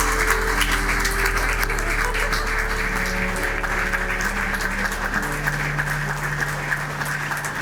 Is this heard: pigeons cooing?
no